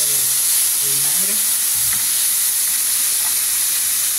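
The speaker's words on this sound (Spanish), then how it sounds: "Lo que tenemos que hacer es sofreír la cebolla y el ajo." Onion and garlic fry in a pan with a splash of vinegar for Yucatecan escabeche oriental, giving a loud, steady hiss and crackle close up, with faint stirring knocks.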